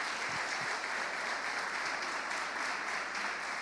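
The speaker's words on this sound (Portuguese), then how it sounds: "Bate palmas para Jesus." Church congregation clapping during a sermon, a steady sustained patter of many hands at a fairly low, distant level, with no talking heard.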